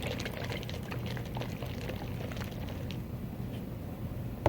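A closed container of oil, water and soap shaken steadily, giving a continuous sloshing, gurgling wash at moderate level with no clear pauses.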